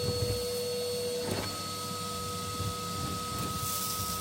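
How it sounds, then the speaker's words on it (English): A household vacuum cleaner drones steadily while sucking soot from a wood burner fitted with a register plate, a constant close whine with brief shifts in tone, no talking. "And then you stick your hoover up in here."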